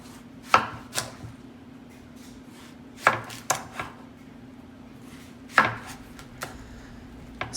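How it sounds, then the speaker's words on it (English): A knife chops through a watermelon on a board, cutting it into slices: a handful of sharp, close cutting thuds spaced irregularly, with quiet pauses between them. "And then, cut into slices."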